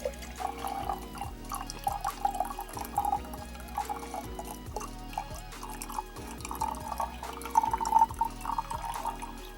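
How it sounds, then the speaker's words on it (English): Hot water poured from above into a glass mason jar, a run of bright trickling and splashing drips with ringing, hollow resonance as the jar fills, uneven and close by, with no voices. "take the hot water, and you're going to want to pour it in here into the mason jar"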